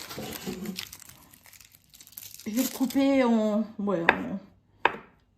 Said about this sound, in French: Donc le surimi, je vais le couper.